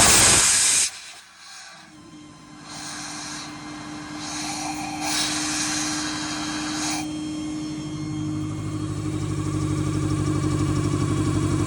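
An air compressor on a 2015 Ford F550 service truck with an IMT Dominator bed runs loud and close, starting with a sharp hiss that drops off, then a steady mechanical hum and whine that builds gradually.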